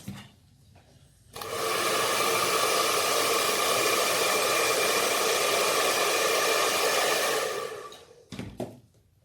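A handheld hair dryer blow-drying a small section of hair, switching on with a steady loud rushing whoosh held for about seven seconds, then winding down to faint handling noises.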